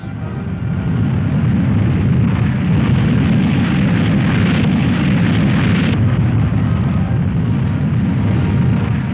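A Convair YB-60 eight-jet bomber, successor to the B-36, roars past in flight at Fort Worth, Texas, a loud, dense, continuous jet rumble that holds steady throughout, with no voices.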